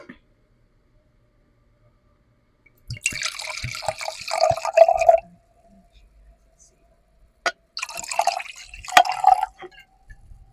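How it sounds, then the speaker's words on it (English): Trader Joe's Merlot red wine poured into a glass in two close bursts of gurgling liquid, each rising in pitch as the glass fills, separated by a short pause. "So let's pour it up."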